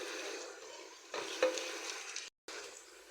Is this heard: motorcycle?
no